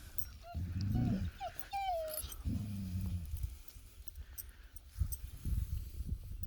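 A grouchy dog growling and grumbling in low rumbles, with whiny vocal rises and whimpers in between, heard close by and moderately loud, in bursts with pauses.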